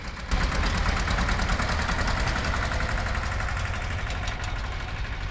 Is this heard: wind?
no